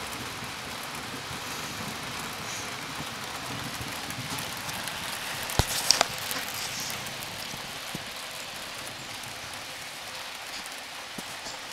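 Steady rain falls throughout, a soft continuous patter with a few sharper drops or knocks near the middle.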